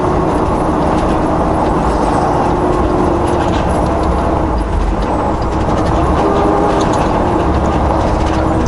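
Tire snow chains on a slippery road give a loud, continuous metallic rattling and clanking that runs unbroken throughout, with no speech.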